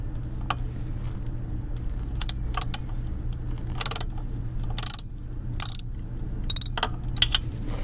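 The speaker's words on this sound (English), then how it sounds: "I'm going to go ahead and loosen this bolt up a little bit." A ratchet wrench loosens a bolt on a 150cc Super Hornet during an oil change, giving short bursts of metallic clicking spread across the clip over a low, steady hum.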